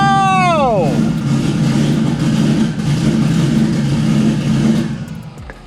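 A Subaru WRX STI with an EG33 flat-six and an engine-position fault on its ECU cranks with a falling starter whine, then catches and runs loud and close with a rough, steady roar that eases near the end.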